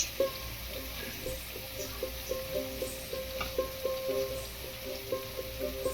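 Spiced chicken tikki gravy fries in a pan with steady sizzling and crackle, a repeating pulse of stirring scrapes running through it; moderate level, no voices.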